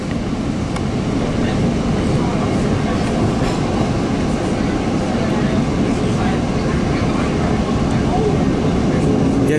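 Continuous rumble and clatter of a South Coast Rail commuter train pulled by an EMD F40 diesel locomotive, heard from a passenger car with steady loud track noise; speech from riders is faintly present.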